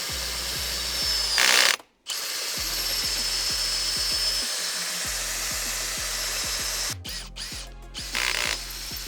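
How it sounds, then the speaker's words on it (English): A drill with an 8 mm bit bores through the metal plate of a Volvo short-shifter kit in a steady close whirr, broken by short pauses and a ratcheting rhythm of repeated clicks. "take an 8mm bit and drill again"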